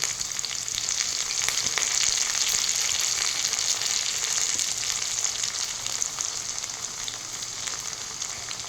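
Curry leaves fry with onion and garlic in a pan for paruppu urundai kuzhambu, a dense, constant sizzle that holds steady and close throughout, with faint stirring clicks and no talk.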